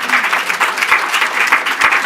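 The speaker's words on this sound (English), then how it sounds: "Applause for our interpreter." A room of attendees at a universal health coverage workshop applauds a sign language interpreter, a dense, loud burst of clapping that stays even throughout.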